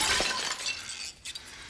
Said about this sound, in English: Zombie Bob, who smashes the fire axe off the wall